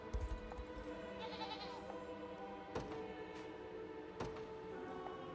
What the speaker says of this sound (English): Oh no, more goats.